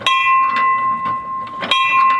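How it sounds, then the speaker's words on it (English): A model train's bell, rung by pulling a rope, gives a bright, sustained ding, struck a few times in quick succession, close and clear over faint background noise. "this rope here, actually you can pull it on the inside and make the bell go"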